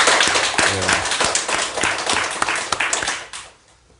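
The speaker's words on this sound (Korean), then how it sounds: "그 노고에 대해서 또 박수 한번 보내주시면 좋을 것" A congregation at a Won Buddhist temple sermon gives a brief round of applause, with a burst of clapping that thins out and fades to quiet within a few seconds.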